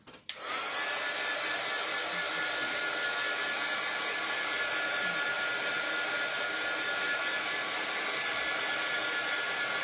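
A hair dryer blows steadily and loudly on painted craft paper, switching on with a brief click and then holding a constant rushing whir with no talk.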